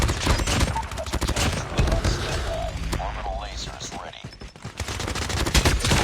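Rapid gunfire from a P90/CBR4 submachine gun in COD Mobile rattles out in dense bursts with other game sounds, while a player talks over the action.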